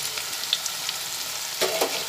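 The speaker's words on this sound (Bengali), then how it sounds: "আমি এখানে 4টে মাঝারি সাইজের পেঁয়াজ ভেজে নিচ্ছি।" Four medium onions frying in oil with turmeric and Kashmiri chilli powder for chicken korma, a steady bright sizzle with a few stirring scrapes and crackles.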